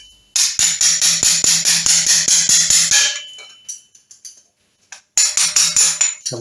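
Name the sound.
bending a metal tab out with an old screwdriver as drift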